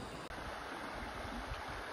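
The mouth of the Gilówka river flowing steadily, a broad, continuous rush of water close by, carrying a fair volume with no pauses or other sounds over it.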